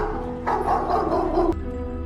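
A dog barks wildly in a 1945 wartime German film scene, a short burst of loud, rough barks close by that cuts off abruptly, with no talking.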